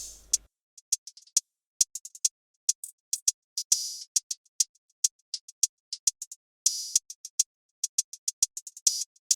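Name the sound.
hi-hat loop from a Cymatics sample pack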